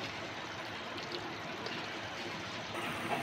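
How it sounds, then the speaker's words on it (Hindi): Water coming to a boil in a cooking pot for chicken pulao, a steady, close bubbling and churning hiss running evenly throughout with no speech over it. "ये आ गया पानी में बॉईल।"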